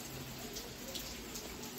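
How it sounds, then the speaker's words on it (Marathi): Heavy rain falls in Nagpur, a steady wash of hissing downpour with faint drips and splashes nearby, unbroken and without voices. "परत आता पाऊस सुरू झालेला आहे"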